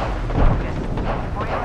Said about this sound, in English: Threw my grenade out. My frag out.